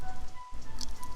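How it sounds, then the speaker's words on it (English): Rain falls in the video game Dragon Quest XI, a soft steady patter with light drips under a constant ambient hum, no voices. "of course it's raining"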